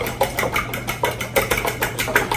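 A whisk beats brownie batter made with black beans in a bowl, giving a quick, even series of scraping, tapping strokes, close and steady, with no talking.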